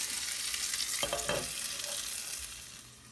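Breaded chicken milanesa fries in hot oil in a cast iron pan, a bright steady sizzle with a few scraping utensil sounds in the middle before the crackle settles and softens.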